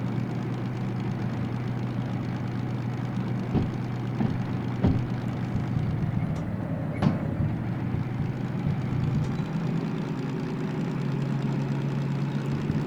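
Diesel locomotive in the train-driving game Derail Valley, running at low revs: a steady, deep engine drone holds throughout, with a few faint clicks and knocks on top and no talking.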